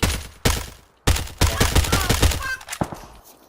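Bursts of gunfire from the battle game PUBG: several sharp shots and short volleys in rapid succession, loud and close, with a brief gap early on.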